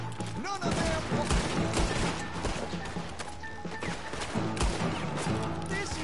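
Red Dead Redemption 2 gunfight with a dense, rapid fusillade of shots and crashing impacts, loud and continuous throughout, with voices mixed in under the shooting.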